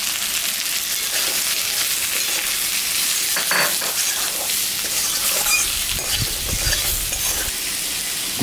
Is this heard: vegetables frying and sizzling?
yes